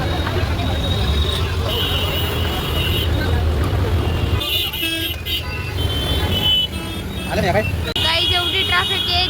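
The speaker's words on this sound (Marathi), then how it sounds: "आता समोर पण ट्रॅफिक चालूच आहे" Heavy road traffic in a long jam on the way to a village wedding, with engines rumbling close and steady, horns tooting in short bursts, and voices chattering throughout.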